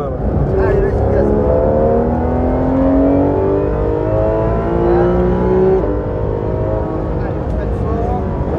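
A Porsche 911 GT3 RS accelerates hard on a race circuit, its engine note climbing steadily through the revs, loud and close from inside the car, with a voice briefly speaking over it.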